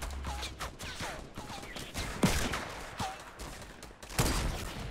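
Rapid gunfire in a shooter video game, a string of crisp close shots with one louder heavy crack near the middle and another late, over faint background noise and brief electronic chirps.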